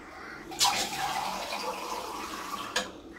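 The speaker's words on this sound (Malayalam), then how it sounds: "ഈ മിക്സിയുടെ ജാർ ഒരല്പം കഴുകി ആ വെള്ളം കൂടെ ചേർത്ത് കൊടുക്കാം" Rinse water from a mixer jar pours into a jackfruit seed curry (chakka kuru curry), a steady watery splash that starts abruptly, runs for about two seconds and ends with a brief louder burst, close and alone with no talk.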